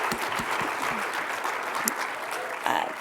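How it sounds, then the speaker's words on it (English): Audience applause at an ataxia conference award ceremony, honoring a new PhD recipient: a dense, steady wash of many hands clapping close by, holding at an even loudness for about three seconds. "can we give her a round of applause for that great accomplishment"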